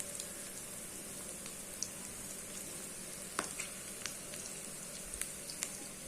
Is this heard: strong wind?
no